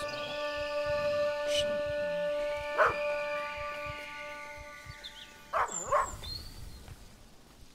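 A dog in the horror video game Maid of Sker lets out two howling, whining calls partway through, faint against a steady droning ambience with tonal hum.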